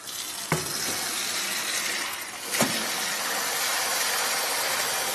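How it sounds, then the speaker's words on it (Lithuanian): Tap water runs in a steady broadband rush throughout, with two brief clatters of dishes in a kitchen sink; no one speaks. "Ar galima vandenį atsukti?"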